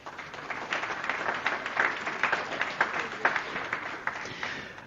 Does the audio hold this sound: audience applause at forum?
yes